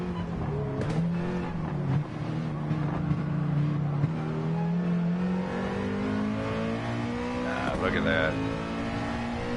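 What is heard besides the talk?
2019 Toyota GR Supra turbo engine racing, from a video game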